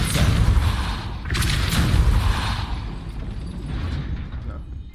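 Depulso force spell cast in Hogwarts Legacy, a burst of booming, rumbling impact with sharp crackling transients, fairly loud and sustained for several seconds, fading toward the end.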